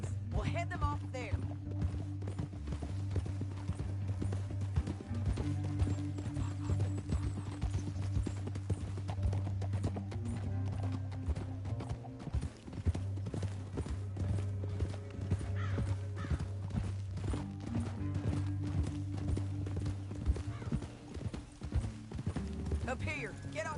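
Horse hooves clip-clop steadily in the Red Dead Redemption 2 video game, a continuous rhythmic trot under game dialogue and a rumbling ambient score.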